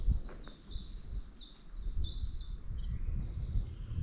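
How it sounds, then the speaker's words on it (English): A bird sings by an old railway arch along the lost railway to Ravenscar, repeating a bright, high, slightly descending note about every third of a second, clear and fairly close over a low outdoor rumble. "Listen to the birds."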